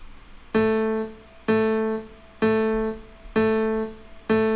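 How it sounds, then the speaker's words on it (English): A dry piano with no reverb or delay strikes five evenly spaced notes, each with a sharp attack and a quick decay into near silence, close and alone with no talking. "without all these, without the reverb and the delay, the piano sounds like this."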